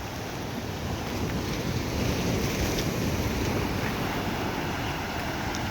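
Sea waves washing steadily beneath strong wind rumbling on the microphone, recorded out on calming open water near fishing boats, a continuous broad wash with no distinct breaks.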